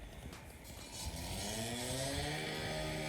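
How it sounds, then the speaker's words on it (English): Power saw cutting up a parking lot's pavement, a steady harmonic engine whine that rises in pitch and intensity and then holds as a continuous droning buzz, heard from a moderate distance. "This dude is sawing up the damn parking lot."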